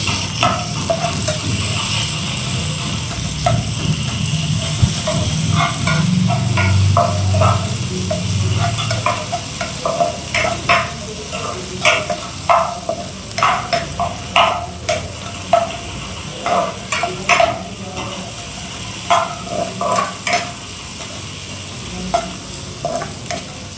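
Potatoes with spice masala fry and get stirred in a pan for an Indian aloo and egg fry, with a steady sizzle and repeated scraping, clacking stir strokes, close up and with no talk.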